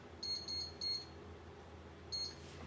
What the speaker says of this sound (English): turn my little timer off